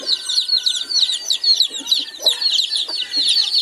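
A brood of about eighty chicks cheeps close by in a lively, overlapping chorus of high-pitched peeps, rapid and continuous without pause.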